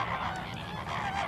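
Flamingos in Cyprus wetlands give nasal, goose-like honking calls, several overlapping and fairly close, continuous across the short stretch.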